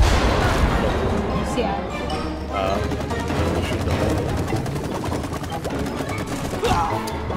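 Rapid sap gun fire in the co-op video game It Takes Two, a dense stream of loud shots over a heavy low rumble of game music and effects, with voices talking throughout.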